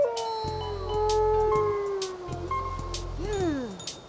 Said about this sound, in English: I bet the howling is coming from the nearby rainforest.